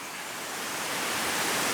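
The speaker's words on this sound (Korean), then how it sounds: "그게 금강폭포였던 거예요" Geumgang waterfall in the Hangyeam valley near Pyochungsa temple roars as a dense, steady rush of falling water, close and loud and growing slightly, with no voices.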